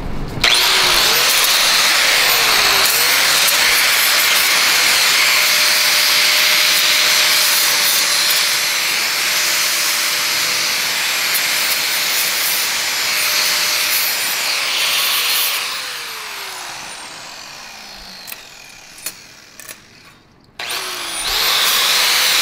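A power tool grinds mill scale off steel with a loud, continuous whine and rasp for about fifteen seconds, then winds down and starts again in short bursts, with no talk.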